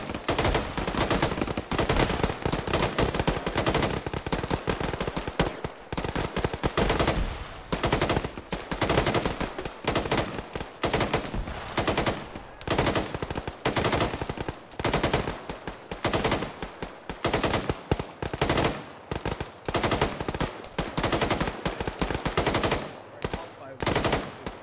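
Sustained automatic machine-gun fire in Arma 3 during an infantry battle drill on a 100-meter range, loud dense bursts with brief gaps, crackling continuously for the whole stretch.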